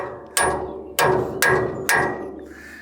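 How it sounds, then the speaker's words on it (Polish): Four loud, sharp metallic hammer blows ring out at an even pace, close up, as a bolt is knocked out of a potato planter. "Przyniósłbyś mi mniejszy młotek, bo mnie ręka boli."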